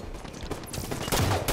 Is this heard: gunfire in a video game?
yes